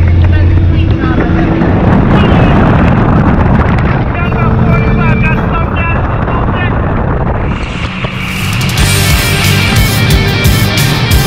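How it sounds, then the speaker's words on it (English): A cigarette speedboat's three 300 hp Mercury Verado outboard engines roar loudly alongside heavy wind buffeting, with rushing water and voices underneath the steady engine drone. "Three 300 Mercury Verados on that cigarette boat."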